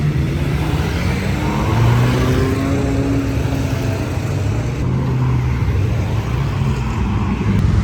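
Several high-end sports cars rumble and rev nearby, engines rising and falling in a steady, loud roar as they drive past.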